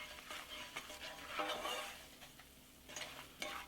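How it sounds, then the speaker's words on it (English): Red chili powder, turmeric and a dry spice mix stir-fried in a pan for a Hyderabadi baby eggplant curry, with soft scraping stirs over a faint, steady sizzle at close range. "Stir fry for about a minute."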